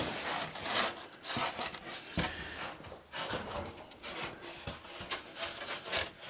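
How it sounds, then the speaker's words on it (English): Wood being cut to length with a hand saw for a tiny house build, close and alone, with steady rasping strokes in an irregular rhythm and a few sharper knocks between passes. "And I've gone to cutting it to length."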